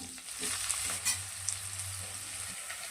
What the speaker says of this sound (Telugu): ఇట్లా ఉల్లిగడ్డలు ఫ్రై అవుతున్నప్పుడే